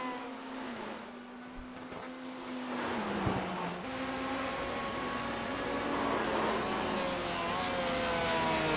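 Race cars, among them a Porsche, lapping the Road Atlanta track with sustained engine whines that rise and fall in pitch as cars pass, layered and continuous at moderate distance.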